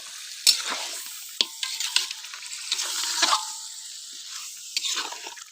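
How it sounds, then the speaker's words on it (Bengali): Goat meat, head included, is stirred into a frying spice paste, giving a steady close sizzle broken by sharp scraping strokes of the spoon, with no voices. "এবার খাসির মাথা সহ মাংসটাকে সুন্দর মতো মশলাটার ভিতরে দিয়ে দিলাম"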